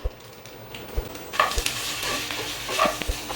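A spoon stirs spices, chili flakes and pepper through a sizzling tempering of cumin and mustard seeds in a pan, with soft scraping strokes repeated over a steady frying hiss.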